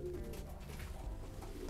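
A pigeon coos softly while held in the hands during sampling for health tests, a low murmuring burble over steady handling noise.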